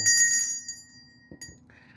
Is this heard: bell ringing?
yes